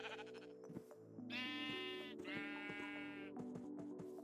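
Sheep in the Minecraft video game bleat twice in a row, loud and close, each call a long wavering cry, with a few fainter bleats and soft game sounds around them.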